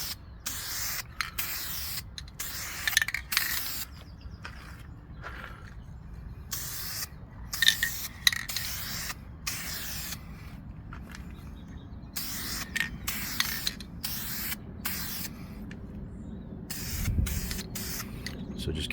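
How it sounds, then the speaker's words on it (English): Spray paint applied in light coats inside a makeshift paint booth, heard as repeated close hissing bursts of varying length separated by quiet pauses, with no talking. "here's my little makeshift paint booth. So here we go, just some light coats."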